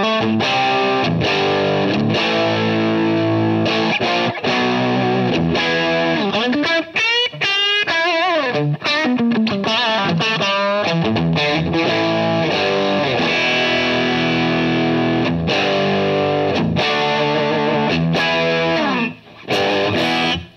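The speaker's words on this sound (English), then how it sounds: "we're starting to get into preamp and output section distortion" Guitar amplifier pushed into both preamp and output-section distortion, a loud, thick and gritty overdriven tone played continuously with chords and sweeping notes, slightly swirling, with only brief gaps near the end.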